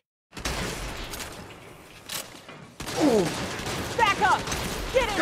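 Heavy gunfire volleys from Saints Row, a dense fusillade with crashes and thuds, broken by a brief lull before more rapid shooting resumes. Voices shout loudly over the shots.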